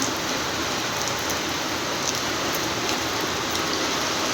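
Steady rain falls on a rooftop garden of flowering plants, a dense, even hiss that holds unbroken throughout, close and fairly loud, with no talking.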